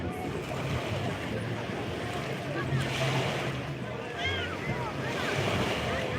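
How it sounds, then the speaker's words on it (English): Ocean waves wash continuously onto a beach, a steady broadband roar of surf with gusts of wind buffeting the microphone, fairly close and even in level throughout. "Sit back, relax, listen to the beach sound."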